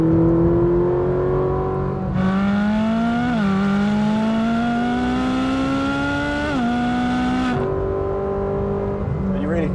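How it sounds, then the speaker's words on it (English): A Ferrari 458 Speciale in race mode climbs a hill, its engine note rising steadily under acceleration, briefly dipping at two quick gear changes before climbing again, loud and close with no talking. "The engine's so much faster, so much more responsive."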